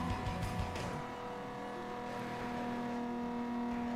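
A car with a 2JZ engine in the racing game NFS Most Wanted, with a loud revving engine note and a brief tire squeal at the start, then a steady sustained drone.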